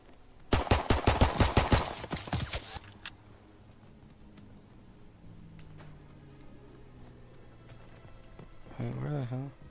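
Gunfire from the Call of Duty: WW2 video game opens with a loud, fast automatic burst of shots lasting about two seconds. Then it goes quiet, leaving a low hum, and a voice speaks near the end.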